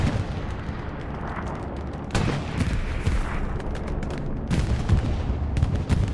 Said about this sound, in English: Bomb run coming in, 21st bombing run.